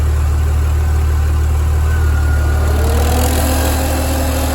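Under the hood of a Ford XR6 Turbo, the engine idles loud and steady with a deep hum, and partway through an air-conditioning compressor cuts in, adding a rising whine.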